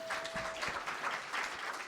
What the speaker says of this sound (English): This man deserves a great round of applause from everyone.